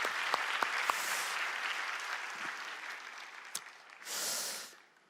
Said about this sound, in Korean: 우리 한번 큰 박수로 한번 격려해 주시면 어떨까요?